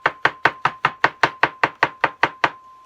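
A knife slices mushrooms on a cutting board, about twelve crisp, evenly spaced chops in a steady quick rhythm, close and clear with no talk.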